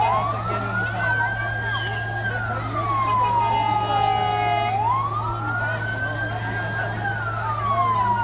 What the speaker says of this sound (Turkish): Yine şu anda itfaiye geldi.